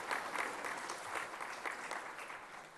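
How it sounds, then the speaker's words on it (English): Audience at an ICAR Foundation Day award ceremony claps steadily, a dense, moderately loud wash of applause throughout with no voices over it. "Ladies and gentlemen, please give them a big round of applause for achieving the targets."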